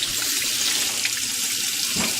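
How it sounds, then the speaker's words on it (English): Cold tap water runs steadily over cooked pierogies sitting in a colander, a continuous close splashing hiss with no voices. "we're going to run these under cold water"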